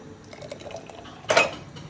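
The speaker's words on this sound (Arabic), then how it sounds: "بس يا جو ناخد من ميه الحمص" Chickpea cooking water poured into a pot while making Egyptian koshari, a short splashing clatter of liquid against metal about a second in, loud and close, with faint kitchen clinks before it.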